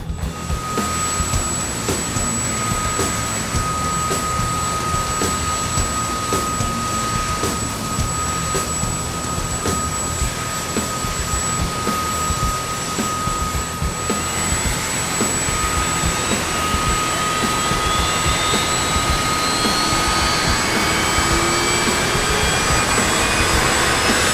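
A CH-47F Chinook helicopter in DCS World starting its turbine engines: a steady, loud broadband roar, with a rising whine that spools up through the second half.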